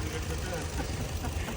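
A car engine runs at idle with a low, rough rumble, heard close up beneath someone talking.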